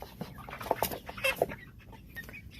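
Black Copper Marans rooster and hens cluck softly in a backyard flock, a few short clucks and calls in a quiet run with some faint vocal bursts.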